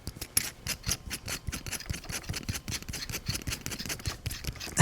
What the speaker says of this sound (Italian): Vi voglio far sentire i giri che servono per chiudere la penna